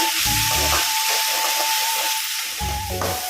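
Onions fry with a pinch of salt in a pan for paneer masala gravy, giving a continuous bright hiss and sizzle with occasional stirring, and no one speaking.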